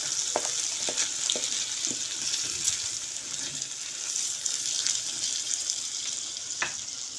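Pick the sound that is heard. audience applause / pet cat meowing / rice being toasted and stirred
rice being toasted and stirred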